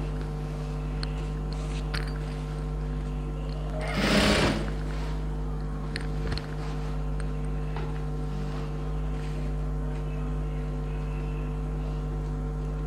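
An electric sewing machine stitches a silk pattu pavadai with a constant mechanical hum and whirring, and a brief louder burst of noise around the middle, with no speech present.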